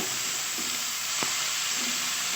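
Red amaranth greens sizzle steadily in a hot pan after fried potatoes, a constant soft hiss with a couple of faint clinks, and no voices.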